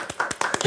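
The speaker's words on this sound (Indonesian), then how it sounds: "Ya, tepuk tangan dulu." Hands clap in a quick burst of about six sharp claps at a podcast recording, close and fairly loud, with no voices over them.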